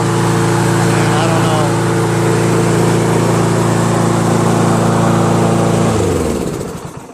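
Toro SR4 Super Recycler lawn mower with a Chinese clone engine running loud and close, a steady humming drone that holds for several seconds before the engine cuts out and winds down.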